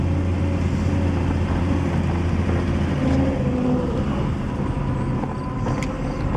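A Chevrolet Styleliner Deluxe runs and drives on a test drive, its engine giving a steady low drone with road rumble and a slight change in tone partway through, heard from inside the car without talk.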